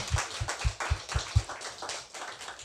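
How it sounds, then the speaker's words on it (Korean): A church congregation claps in unison during a New Year thanksgiving service, with about six sharp, evenly spaced rhythmic claps followed by looser, softer clapping. "우리 박수로 하나님께 영광 한번 올려드립시다."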